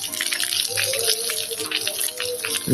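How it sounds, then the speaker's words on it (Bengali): Water pouring from a pipe into a container, a steady close gushing and splashing flow with a faint voice in the background. "জল দিচ্ছি পাইপের মাধ্যমে, ঠিক আছে?"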